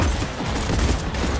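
Dense, continuous automatic gunfire in the video game Cyberpunk 2077, a loud sustained fusillade with overlapping bursts and booms filling the short stretch without a break.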